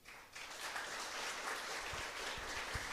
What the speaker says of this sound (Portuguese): pode aplaudir isso aí